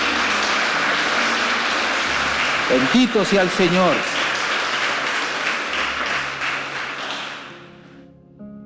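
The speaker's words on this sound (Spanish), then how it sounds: "¿Cuánto le damos un aplauso en esta mañana al Espíritu Santo?" Church congregation applauding at a Spanish-language Pentecostal service, a steady dense wash of clapping running throughout and fading at the end, with someone speaking over it partway through.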